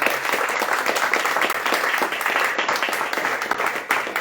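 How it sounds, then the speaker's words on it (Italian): Audience applause for a team at a church gathering, a dense, steady wash of many hands clapping throughout, loud and close, with no pauses. "vorrei che possiamo fare un applauso a questo team"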